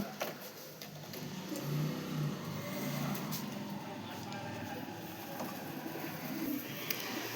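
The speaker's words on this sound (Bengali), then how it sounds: "আর একটা বড় সাইজের পায়রা বিগ সাইজের পায়রা আবার একটা বের করলো" Pigeons, including large domestic and desi breeds kept at a loft, coo softly at a distance amid a constant outdoor hum with passing traffic, while people talk nearby.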